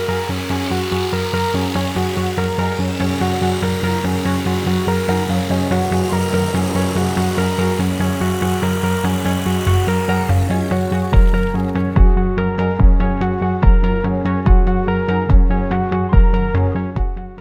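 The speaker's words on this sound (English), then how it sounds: "I'm going to cut it with a jigsaw." A jigsaw cuts through a wooden subfloor panel during a van conversion, a loud steady buzzing drone that shifts into a heavier, rhythmic pulsing toward the end, with no voices.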